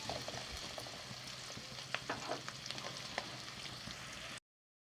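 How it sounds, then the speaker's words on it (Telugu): Onions fry in a pan for a Telugu-style chicken fry, giving a steady close sizzle with scattered crackles and a few stirring clicks, no talking. "వేసుకున్న ఉల్లిపాయలు బాగా ఫ్రై అవ్వాలండి గోల్డెన్ బ్రౌన్ కలర్ దగ్గర రావాలి ఉల్లిపాయలు బాగా ఫ్రై చేసుకుందాం"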